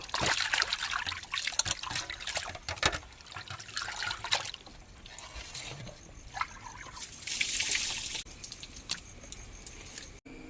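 Water running while fish is washed in a Mangalore kitchen, trickling and splashing close by with clinks of handling and shifting bursts of flow, no speech.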